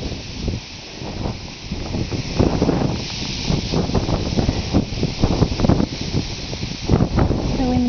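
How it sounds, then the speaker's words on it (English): Wind blows through reeds outdoors, a steady breathy rustle with gusty surges and rattling stalks, plus some rumbling wind buffet on the microphone. "The wind in the reeds."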